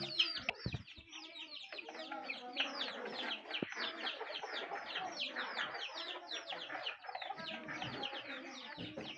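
A cage of two-month-old chickens, about twenty-five birds in a six-foot wire cage, clucks and cheeps constantly. The dense, overlapping chatter stays close and lively throughout, after a few sharp knocks at the start.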